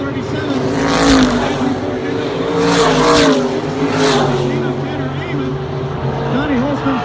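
Race cars roar around the Dominion Raceway track in Thornburg, their engines rising and falling as they pass in waves, loud and continuous beneath an announcer calling the race over the PA.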